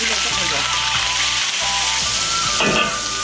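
Pickled ginger and pickled chilies dropped into hot oil in a wok for a Chongqing-style konjac duck feet dish, giving a loud, constant crackling sizzle close up with faint stirring.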